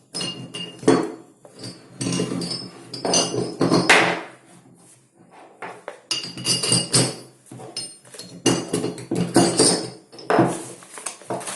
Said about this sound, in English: we remove the stud and rotate the figure 8 like this